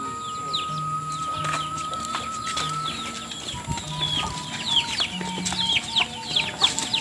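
Chickens clucking in a village garden, repeated short clucks and calls from several birds at close range, with faint voices talking in the background.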